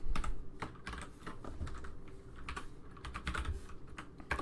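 Rapid clattering keystrokes on a computer keyboard as HTML code is typed, irregular bursts of close, crisp clicks continuing steadily with no talking.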